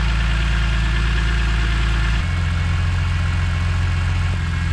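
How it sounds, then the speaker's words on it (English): A car engine idles steadily after a repair, with a redesigned CSL airbox fitted, its deep continuous rumble shifting to a slightly different pitch partway through, close and loud with no talking. "Let's have it idle for a little bit till it warms up"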